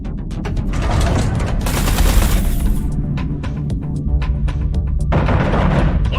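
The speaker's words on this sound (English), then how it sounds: "concentrate artillery fire on Blakemore's carrier" Artillery fire pounds a carrier in the space combat game Everspace 2: rapid bursts of loud, overlapping blasts and booms in a dense barrage, easing briefly and then picking up again.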